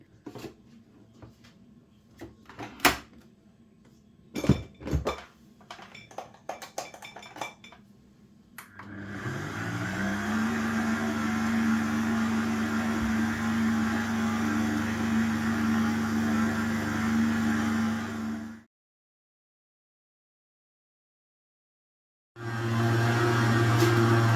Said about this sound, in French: Moi, vu que j'ai un pétrin, je vais laisser pétrir pendant 5 minutes à peu près.